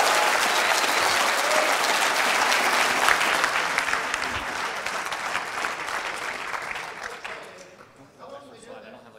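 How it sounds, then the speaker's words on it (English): Sustained applause from a conference audience at a lightning talk session, dense and steady for several seconds before thinning and fading out near the end. "Another round of applause."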